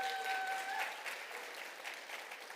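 Faint applause from an audience welcoming a judge at a university startup showcase, a steady wash of clapping that carries through the whole short stretch at low volume.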